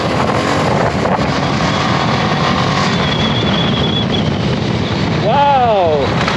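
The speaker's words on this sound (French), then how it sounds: "aujourd'hui, il y a un vent à décorner les bœufs" Strong wind buffets the microphone steadily while a 1996 Honda NX650 Dominator RD08 trail bike rides along, a low engine drone under the rumble and a brief whistling tone near the end.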